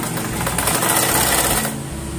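A sewing machine running a double stitch along the edge of a frilled saree petticoat, a loud, steady mechanical whir with rapid needle knocking, close up and continuous with no talking.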